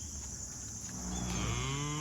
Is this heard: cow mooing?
yes